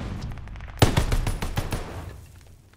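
A BAR rifle fires a quick burst of several sharp, closely spaced shots in Call of Duty Vanguard, loud and near, followed by a fading tail of echo into quiet.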